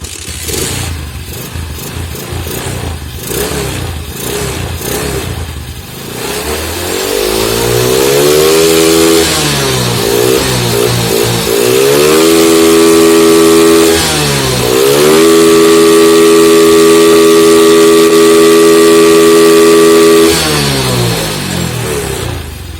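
A repaired motorcycle engine cranks and sputters, then catches and revs loudly in repeated rising and falling surges, sustained close by with no talk.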